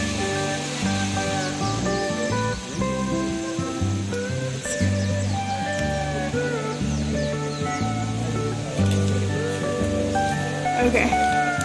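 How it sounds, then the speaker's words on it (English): Akaka Falls on Hawaii's Big Island, a steady broadband rush of falling water heard almost entirely under the loud chatter of many nearby visitors talking over it throughout. "It was very pretty, but there were a lot of loud people, deterring from the waterfall audio."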